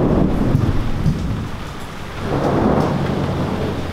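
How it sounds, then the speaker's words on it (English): Thunder rolls through a rainstorm in Point Venture, a loud deep rumble that swells, eases slightly, then builds again over steady rain pattering on surfaces. "And the thunder rolls."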